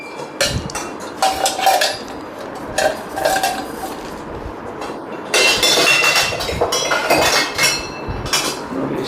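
Old metal serving vessels for rasam and sambar clank and clink as they are handled, with repeated bright metallic knocks and scrapes, some loud and close, between quieter pauses.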